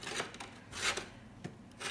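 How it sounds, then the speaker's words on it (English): A hard disk in its caddy slides into a PS4 Pro console, making soft, close scraping rubs in several short strokes with no talk. "we just need to slide this thing inside the PS4"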